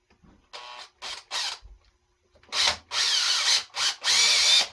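Small power drill enlarging pilot holes in a fat bike tire for studs, in short close bursts of whirring, three brief runs, then a pause, then longer, louder stretches of drilling, no talk.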